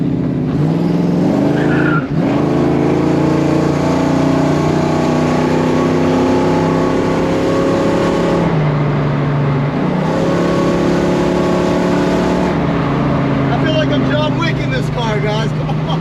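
A 1969 Ford Mustang engine drones loudly and continuously up close, its pitch rising and dipping as the throttle works through the pull, with a brief break and some tire noise along the way.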